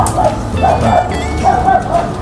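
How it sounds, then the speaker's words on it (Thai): A dog at Showa Memorial Park in Tokyo lets out a string of soft, muffled barks and yips at a steady pace, somewhat distant, over a constant outdoor background. "ยินเสียงหมาเห่า"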